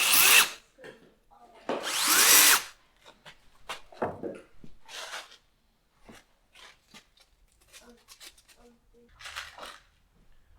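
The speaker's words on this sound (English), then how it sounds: "A little bit of belt sander action. Clean up the burrs." A belt sander cleaning burrs off a part for rear clearance lights, heard in two loud, harsh bursts near the start, followed by softer handling clatter and brief scattered sounds, close to the microphone.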